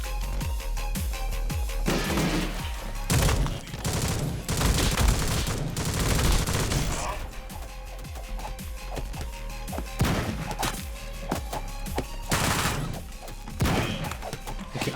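Gunfire from a humongous gun in the video game Madness: Project Nexus roars in dense, rapid bursts with heavy booming impacts, loud and nearly continuous throughout.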